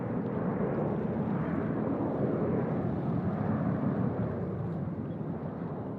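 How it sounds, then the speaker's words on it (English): An ANA airliner takes off from Sydney Airport, its engines producing a steady, broad, distant roar that holds constant and fades slightly at the end. "Aha, ANA has departed"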